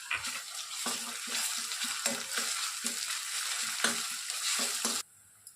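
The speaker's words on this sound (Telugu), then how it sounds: "ఆనియన్స్ లైట్గా ఫ్రై అయిన తర్వాత టూ స్పూన్స్ అల్లం వెల్లుల్లి పేస్ట్ని వేసి బాగా ఫ్రై చేయండి" Onions with ginger garlic paste fry in a pan for Andhra chicken roast: a loud continuous sizzle broken by rhythmic scraping stirs, stopping abruptly near the end.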